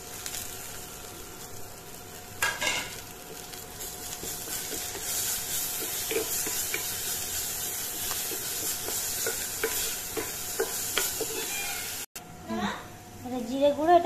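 Garlic paste hits a hot pan for a Bengali prawn curry, with steady sizzling and frying hiss under stirring scrapes, and a voice speaking over the cooking.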